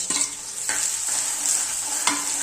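Finely chopped onions with coriander seeds frying in a pan for sarson ka saag, a continuous close sizzle with a few stirring scrapes and no speech.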